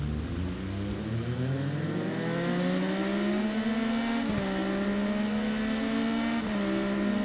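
Racing motorcycle engines in the TT Isle of Man game during a three-lap race: a steady, high-pitched engine whine rising in pitch, briefly dipping at gear shifts, continuous and fairly loud with no voices.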